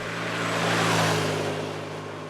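A powerful motorcycle engine, a modern replacement for an old flat twin, grumbles and growls loudly and steadily nearby, a dense, throaty roar that swells slightly and then eases off.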